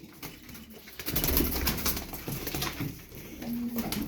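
Low, soft cooing of pigeons over a steady background hum, with a bit of rustling and wing movement nearby.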